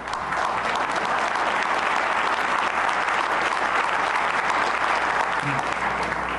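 Sustained applause from a large audience at a New York governor's state address, a steady dense wash of many hands clapping with a faint murmur underneath, loud and continuous throughout.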